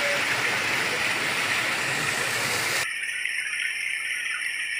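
Waterfall at Sibol Hot Spring in Gregorio del Pilar, Ilocos Sur, near a small cave: a loud, steady rush of falling water fills the first three seconds, then cuts abruptly to a thinner, quieter hiss.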